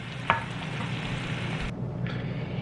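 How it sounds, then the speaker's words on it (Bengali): Shrimp sizzling in hot oil in a pan, a steady close hiss with a sharp spatula clack near the start and a brief break in the sizzle before it resumes. "চিংড়ি মাছগুলোকে ভালো করে ভেজে নিয়েছি"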